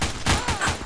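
Rapid bursts of gunfire from the video game Garry's Mod Trouble in Terrorist Town, several dense overlapping shots packed into one loud second.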